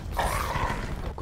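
A dog specialist snarls and growls while attacking in the Black Ops 4 video game, a rough, close, gritty growl lasting about a second with no voices over it.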